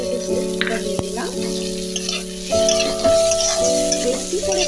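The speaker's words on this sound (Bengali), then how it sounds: "হালকা মতো 5-10 মিনিট চলে যাবে এইরকম করে ভাজতে হবে" Potato snack batter fries in a pan with a steady, close sizzle that swells louder around the midpoint. A voice may murmur faintly in the background.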